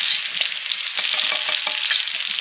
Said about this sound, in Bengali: মাছগুলো ভেজে নিচ্ছি, রূপচাঁদ মাছ